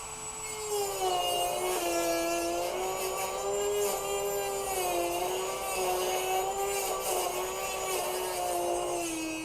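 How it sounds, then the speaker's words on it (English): A Dremel rotary tool grinding through plastic headphone parts, a steady high-pitched motor whine that wavers slightly in pitch as it bites into the material, running continuously and fairly loud. "The Dremel really does come in handy for this."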